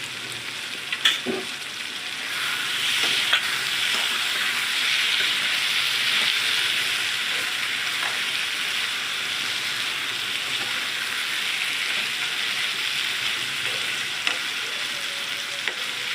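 Soyabean chunks curry stir-fries in hot oil, a broad continuous sizzle that swells after the first couple of seconds and holds steady, with occasional soft clicks of stirring and no voices.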